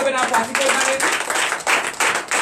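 Church congregation clapping together at a Sunday service in Comè, Benin, a dense, steady run of hand claps with strong rhythmic pulses, sitting under some singing or talk.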